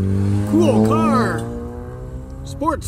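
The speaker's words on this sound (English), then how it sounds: "Sports car." A sports car accelerates past on a road near Lake Verona, its engine rising in pitch through a couple of quick revs, while a person talks over it nearby.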